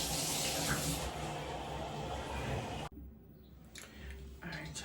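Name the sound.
shower water running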